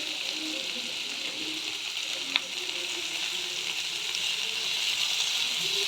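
Capsicum, tomato and green chili sautéing together in a pan, a steady hissing sizzle with one sharp utensil tap and faint scraping, growing slightly louder toward the end, no talking.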